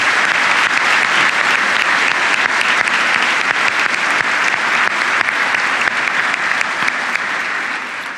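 A lecture hall audience at Kansas State University gives sustained applause, many hands clapping in a loud, dense, even roar that holds steady for several seconds and eases slightly at the very end.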